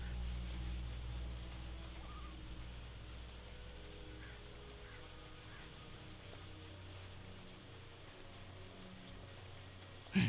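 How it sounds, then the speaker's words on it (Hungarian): Rain falls steadily in the video game Alan Wake as a soft, faint, even hiss with a low background hum, running unbroken until a brief bump at the very end. "Ja, most itt esik az eső."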